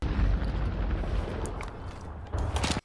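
Tank gunfire explosion from the 1998 war film Saving Private Ryan: a heavy, loud rumbling blast that rolls on for a few seconds before cutting off.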